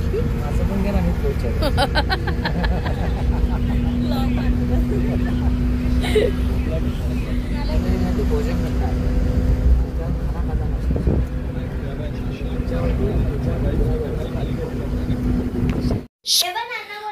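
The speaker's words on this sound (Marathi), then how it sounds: "आम्ही आता रिक्षाने प्रवास करतोय गावापर्यंत जाण्यासाठी" An auto rickshaw ride toward a village near Gadhinglaj, its steady engine drone and road rumble continuous and loud throughout, with wind noise and a sharp knock near the end.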